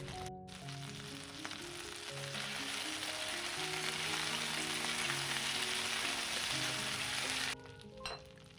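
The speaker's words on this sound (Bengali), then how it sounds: "তো তেলটা গরম হয়ে গেলে আমি চিকেনগুলো একে একে দিয়ে ভালো করে চিকেনগুলোকে ফ্রাই করে নেব" Thinly coated chicken pieces fry in hot white oil, giving a steady, dense sizzle that runs nearly throughout, with a brief clink near the end.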